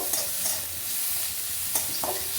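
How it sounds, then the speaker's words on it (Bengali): Ground stuffing paste for stuffed bitter gourd fries in oil tempered with black cumin. A steady close sizzle runs throughout, with a few sharp scrapes and clicks of stirring and no talk. "বেটে রাখা পুরটা দিয়ে দেব। একটু ভেজে নেব"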